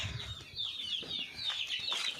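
Chickens on a small poultry farm cluck in short repeated calls, moderately close and fairly quiet, with no one speaking.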